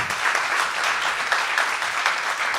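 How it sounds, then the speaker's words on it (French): Audience applause at a Swiss web event, a dense, steady wash of clapping from a crowd that fills the whole moment without a break. "ça peut s'applaudir très fort"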